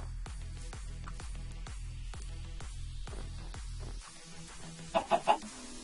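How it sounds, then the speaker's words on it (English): Minecraft chickens cluck in a steady, repeating rhythm over a low droning background, then three short, louder clucks stand out near the end. "There's a chicken up here."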